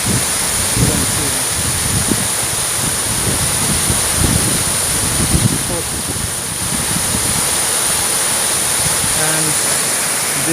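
Rimbi waterfall in Pelling, Sikkim, swollen after rain, roars as a steady, dense broadband rush of falling water, close and loud, with a constant high hiss throughout.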